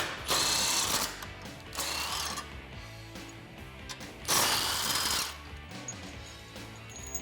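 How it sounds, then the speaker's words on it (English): A socket ratchet with a 21mm socket clicks in quick bursts while loosening front bumper brackets and the tow hook on a Jeep Wrangler JL, close and loud with short pauses between runs. "I'm going to be using a 21mm socket to take off the front brackets as well as the tow hook here"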